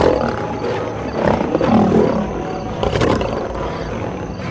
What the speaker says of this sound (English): A roar can travel 8 kilometers, carrying 2 important messages.